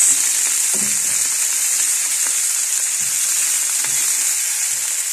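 Tomato sizzling steadily in a hot pan for adobong sitaw, a loud, constant frying hiss with occasional soft stirring knocks underneath.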